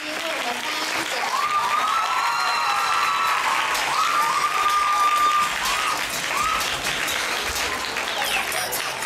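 An audience at an award ceremony claps steadily for several seconds while a teacher comes up to present awards, a dense even applause in a hall with a voice heard faintly over it.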